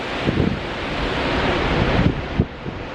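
Ocean waves surging into a natural rock pool on the coast near Canal Rocks, a loud close wash of surf with bursts of splashing and strong wind buffeting the microphone.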